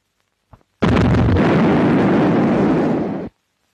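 A big gun on the battleship HMS King George V fires, a sudden heavy blast that roars on for over two seconds before cutting off, loud and close after a small knock just before.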